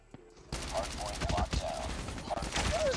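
Rapid bursts of automatic gunfire in the mobile shooter Call of Duty Mobile crackle loudly after a quiet start, with repeated sharp shots and clicks, close and continuous.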